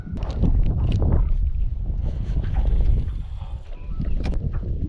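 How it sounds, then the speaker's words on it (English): Wind gusts over a lake during spring bass fishing, buffeting the microphone with a low, rumbling roar that swells and eases in waves, close and fairly loud, with no voices. "Looks like the wind's picking up a little bit."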